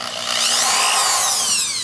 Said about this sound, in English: Run drill through it one more time.